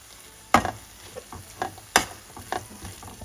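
Spice powders such as chili powder being stirred into a frying mixture in a pan for Kerala-style egg puff filling, with two sharp spoon scrapes and soft intermittent clinks over a faint sizzle, close by and no talking.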